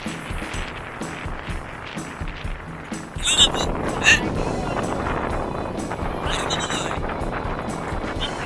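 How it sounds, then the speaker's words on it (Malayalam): Strong wind blows across the coast at Dhanushkodi, a steady, loud buffeting roar on the microphone that grows heavier partway through, with a faint wash of sea beneath it. "ഇവിടെ നല്ല ശക്തമായ രീതിയിൽ കാറ്റ് വീശുന്നുണ്ട്."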